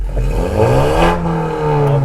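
A VW Golf 8 R fitted with an Akrapovic exhaust revving at a wet race track, a loud, close engine note that rises and then holds at a steady, throaty drone, with no talk over it.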